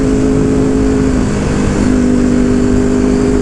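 A Ducati Panigale V2 motorcycle engine drones loudly and steadily at close range, holding a constant pitch without clear rises or blips.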